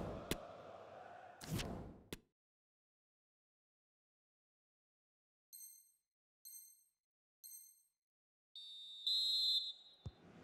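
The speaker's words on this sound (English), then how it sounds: "And there it is, the half-time whistle." A referee's half-time whistle in the football video game FIFA 23: three short sharp blasts followed by one longer blast. It comes after a brief clatter and a pause of silence.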